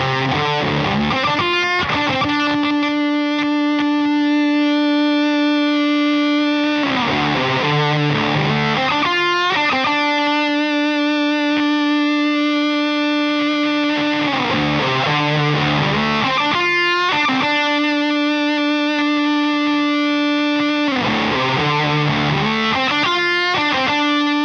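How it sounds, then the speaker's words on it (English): An electric guitar roars through a Walrus Audio ERAS high-gain distortion pedal, sustained saturated chords ringing out with brief choppy riffing between them, loud and continuous. "You can get really wild with a distortion"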